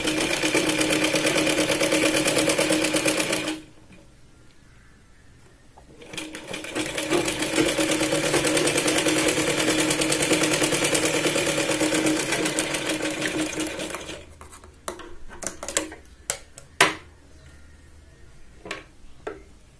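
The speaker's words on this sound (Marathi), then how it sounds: "खाली कडेने आपण आधी शिलाई लावून घेऊया आणि मग याला आपण आत फोल्ड करणार आहोत" A sewing machine stitches along the fabric edge of a katori blouse in a fast, steady mechanical whir, pauses briefly, runs again for a longer stretch, then stops with scattered clicks and handling noises, close and loud.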